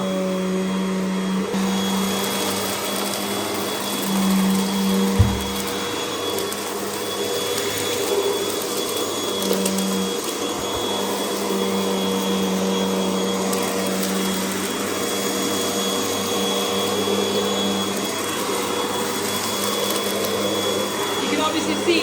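An Argos Value VU01 upright vacuum cleaner runs on carpet with a loud, steady motor drone and whine, close and unbroken for the whole stretch.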